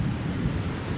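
Ocean waves form and wash in a continuous low, rumbling surge mixed with wind buffeting the microphone, with no voices heard.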